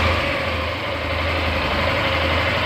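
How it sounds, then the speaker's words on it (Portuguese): A Yamaha Factor 150 motorcycle engine idles close by, a low continuous rumble with no talking. "Deixa eu tentar ligar a moto aqui."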